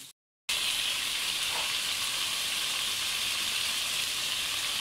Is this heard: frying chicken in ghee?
yes